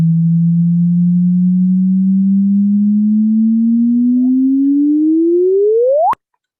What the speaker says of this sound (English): the rising chirp sound of a gravitational wave signal